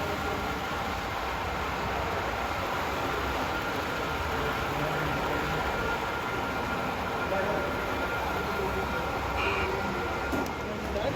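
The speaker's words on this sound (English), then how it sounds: "I was trying to record that train" Broad, steady rumbling roar of a train passing, loud and unbroken throughout, with a faint voice buried in the noise.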